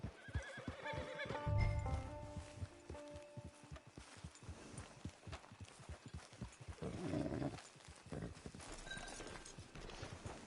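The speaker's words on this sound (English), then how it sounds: "Get your horse." In the Red Dead Online western game, a horse whinnies loudly up close while hooves clip-clop in a steady walking rhythm nearby, with ambient outdoor camp sounds around them.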